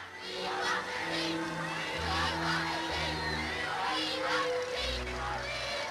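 A crowd of 10,000 people celebrating on the Mall and calling for the royal family during wartime, a steady roar of distant voices with swelling whoops, cheers and sustained shouts.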